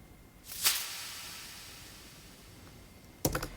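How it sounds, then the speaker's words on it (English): Cabasa hits in a country pop arrangement, two crisp rattling shakes of beads on metal a few seconds apart, bright and hissy with a soft reverb tail, heard alone. "So every second bar, beat 4, we have this cabasa hit,"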